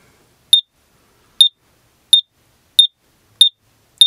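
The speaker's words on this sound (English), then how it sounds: "Then it beeps faster as you release more propane." An Electro Systems GS/3 propane gas detector alarm gives six short electronic beeps at a steady pace, each about two-thirds of a second apart, sharp and high-pitched against near silence.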